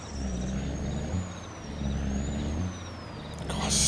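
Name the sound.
truck engine in video game Farming Simulator 22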